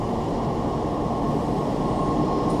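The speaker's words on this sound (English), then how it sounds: "Look at this train. What a beautiful piece of engineering." A train rolling past in Hiroshima, Japan, a loud, close, continuous rumble of wheels on rails with steady mechanical roar throughout, no talking.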